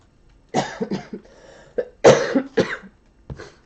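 A series of harsh, close coughs in uneven bursts, several in quick succession with short quiet gaps between them.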